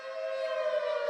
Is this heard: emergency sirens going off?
yes